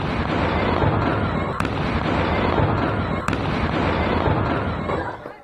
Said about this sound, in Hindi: लखनऊ में अवैध पटाखा फैक्ट्री में धमाका हुआ